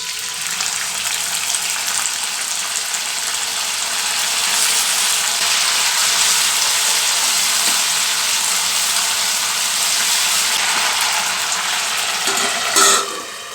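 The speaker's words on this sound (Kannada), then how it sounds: "ಎಣ್ಣೆ ಕಾದಿದೆ ಇವಾಗ ಕರಿಬೇವು ಚೆನ್ನಾಗಿ ತೊಳೆದು ಹಾಕಬೇಕು" Washed curry leaves dropped into hot oil in a pan give a loud, continuous sizzling hiss that crackles steadily throughout, close up with no talking.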